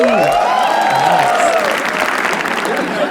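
Audience applause rises for comedian Kunal Kamra at a roast show, dense steady clapping and crowd noise throughout, with a voice over it briefly at the start.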